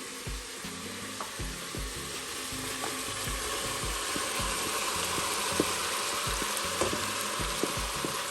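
Chopped vegetables for bolognese sauce fry in a pot, giving a constant dense sizzle with occasional stirring knocks and scrapes close up.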